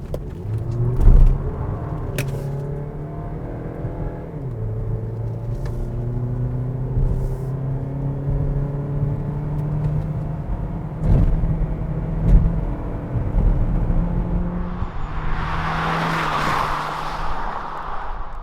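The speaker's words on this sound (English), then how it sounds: "Now let's put the car into Sports and drive." A 2020 Kia Niro Hybrid, with a 1.6-liter direct-injection gasoline engine and an electric motor, drives in Sports mode: a steady engine hum climbs and settles in pitch, with a few knocks and a rushing hiss near the end.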